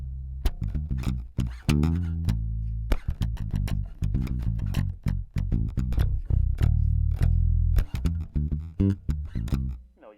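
Palm-muted bass guitar picked with the thumb near the bridge, short damped notes in a busy rhythmic line, loud and close, played solo with no talking.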